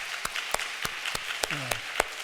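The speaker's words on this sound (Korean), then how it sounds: "감사의 박수 한번 영광의 박수를 칩시다" A church congregation gives a short round of applause during worship, sparse distinct claps spaced roughly evenly over a soft background, moderately distant and fairly quiet, with a faint voice briefly audible.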